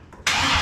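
A car engine is cranked to start; after a quiet moment it bursts into a loud, steady, rushing roar that holds to the end.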